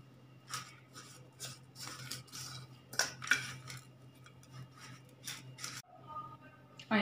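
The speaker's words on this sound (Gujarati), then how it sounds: "હવે આપણે આજે બધા જ મસાલા છે એને સરસ રીતે મિક્સ કરી લેવાના છે" A spoon scrapes and clinks in a bowl while spices are mixed with oil into a stuffing for onion and potato shaak, with repeated close scraping strokes.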